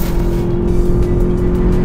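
A 2024 Lexus UX 250h hybrid SUV accelerating hard, its engine droning loud and close with a steady tone that holds throughout, no talk over it.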